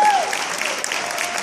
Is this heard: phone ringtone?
no